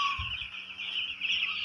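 Six-day-old poultry chicks in a brooder give continuous high, thin peeping and cheeping, many small voices overlapping close by, with a couple of soft low thumps near the start.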